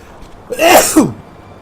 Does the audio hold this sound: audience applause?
no